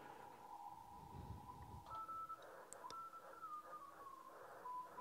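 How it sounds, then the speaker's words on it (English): Morse code CW signal tuned in on a Yaesu FT-710 amateur radio transceiver: a steady tone keyed in dots and dashes, shifting pitch as the dial is tuned, over a bed of band hiss and static. "let me go down and find a CW signal here."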